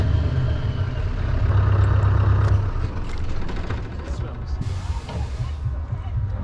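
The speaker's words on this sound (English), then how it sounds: "Just revving it up." A truck engine revs at a busy truck show, a loud mechanical roar that swells then settles, with rattling and crowd noise around it and voices faintly in the background.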